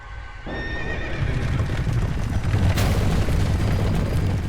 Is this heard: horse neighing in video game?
yes